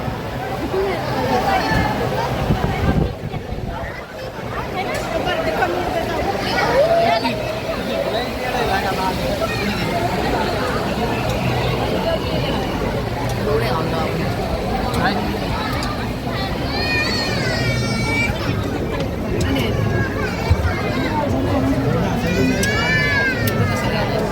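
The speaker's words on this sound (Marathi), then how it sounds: "खूप गर्दी आहे." A dense crowd of devotees packs the grounds at the Shri Sadguru Shankar Maharaj samadhi festival, a steady close hubbub of many voices and shuffling that runs throughout, with occasional higher warbling tones rising above it near the end.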